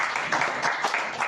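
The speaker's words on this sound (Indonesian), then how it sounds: "Beri tepuk tangan yang meriah buat Tuhan Yesus" Applause for Jesus at a church service, a steady wash of clapping from a congregation, moderately loud and continuous through the short moment.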